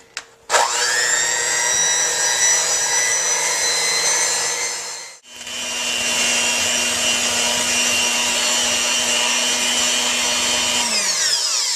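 A stand mixer whips a marshmallow mixture and gives off a loud, steady motor whine. It stops briefly near the middle and then runs on at a slightly different pitch before winding down at the end.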